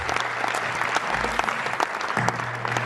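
An audience at a kavi sammelan poetry gathering breaks into applause, brisk clapping filling the hall, with low hum and a brief voice beneath.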